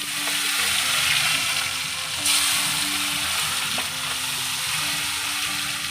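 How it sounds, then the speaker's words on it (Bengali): Bata fish rubbed with salt and turmeric fry in hot oil, giving a loud, steady close-up sizzle with occasional crackles and faint utensil clinks as the pieces are stirred. "তারপর আমি মাছগুলোতে নুন হলুদ মাখিয়ে ঝটপট তেল তেলের মধ্যে ভেজে নেব"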